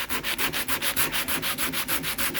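Rhythmic back-and-forth sanding on a wooden tabletop, close and loud, each stroke a rasping swish in a steady pulse of about five per second, with no talk.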